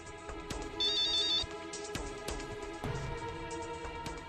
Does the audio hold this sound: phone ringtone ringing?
yes